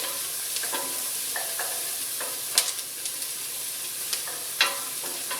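Onion sizzles steadily in a cooling pan while a utensil scrapes and stirs across the bottom, giving irregular scratchy knocks over the constant close frying hiss.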